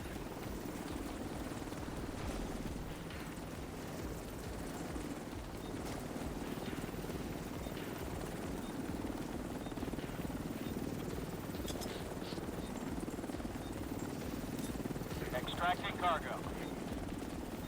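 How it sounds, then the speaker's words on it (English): A helicopter arrives for a cargo extraction in The Division 2, its steady rotor drone and low buzz running throughout under in-game radio speech and combat sounds. "Helo is on site."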